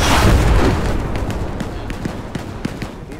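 Heavy artillery shells burst in the Hell Let Loose video game: a loud booming blast at the start rumbles away, then a string of sharper distant impacts and pops continues.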